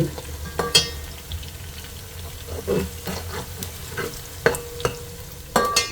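An onion fries in oil in a pan with a soft, continuous sizzle. Scattered stirring clinks and taps sound close by, with no speech.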